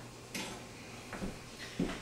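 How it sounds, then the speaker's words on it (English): A metal pan scrapes and clanks as it is slid off a kitchen counter, three short knocks spread over two seconds against a faint room hum. "We can clear this pan out of the way here."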